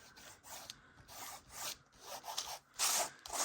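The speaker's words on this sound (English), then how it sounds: "I am going to just take a little bit of rub and buff and just kind of go around the edges here." Soft rubbing of Rub 'n Buff wax around the edges of a mixed media Christmas tree craft piece, a quiet close-up scraping and brushing in uneven repeated strokes with no talking.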